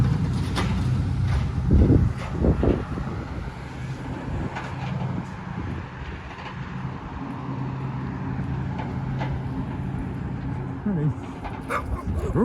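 A dog barks a few times near the start, with some yips and whimpers, on a Regina street south of Broadway while passing traffic rumbles steadily underneath and a person talks.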